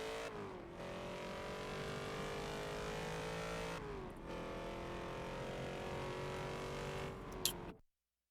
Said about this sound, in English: Driving the AMC Javelin AMX.